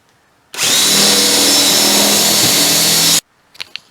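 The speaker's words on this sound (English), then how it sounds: "Drill it right out." Power drill boring holes through a Jeep hood for a hood louver install, one continuous loud whine lasting under three seconds, then a few faint clicks and handling noises.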